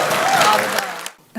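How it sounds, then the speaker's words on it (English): Applause from the audience at a state legislative committee hearing on ERA resolutions, a dense burst of clapping that runs steadily for about a second, then cuts off abruptly into near silence. "Applause is okay."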